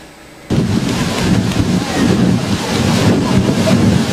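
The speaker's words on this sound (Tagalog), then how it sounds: "hanggang ngayon ay napakalakas pa rin ang hangin ating nararamdaman" Loud, strong super typhoon wind in Masbate, Philippines, roars and buffets the microphone continuously after a sudden onset, a heavy rushing gust with no speech.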